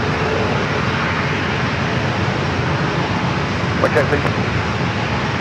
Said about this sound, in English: 737 Max 8 heading to Nashville, Tennessee. Now rolling down to 27.